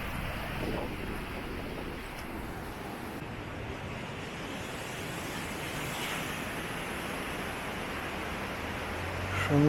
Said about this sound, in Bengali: সমুদ্রের একদম ধারে